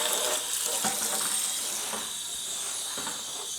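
Water pours from a tap into a bucket for mixing coco coir, a steady close hissing stream that fades slightly as the level rises, with no talking.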